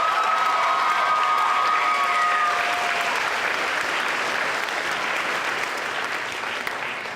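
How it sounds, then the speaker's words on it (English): Sustained applause from a crowd at a student association's fall closing ceremony, steady and full throughout, tapering slightly toward the end with a few whistles early on. "Can we give her a big round of applause?"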